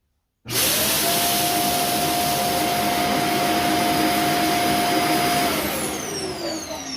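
A Neabot Nomo Q11 robot vacuum's self-emptying dock kicks in abruptly and roars loudly with a steady whine, holding for several seconds before easing slightly toward the end; no talking.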